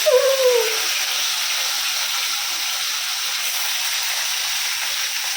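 Moya fish fry in hot oil with a loud, even, continuous sizzling hiss close by. A brief whistling tone sounds at the very start, then the hiss holds steady until it cuts off.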